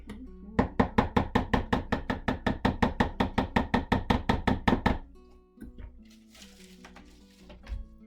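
A tool scrapes down a light pink layer of handmade soap in a series of rapid, evenly spaced strokes, about twenty in a row. The strokes stop abruptly and leave a few soft handling noises close by.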